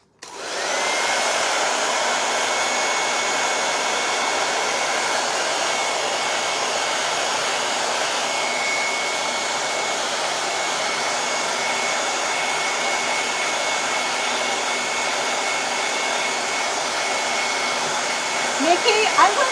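A hair dryer blows continuously at close range while drying decoupage crackle paint on a dresser, a steady whooshing roar that starts abruptly and holds for the whole stretch.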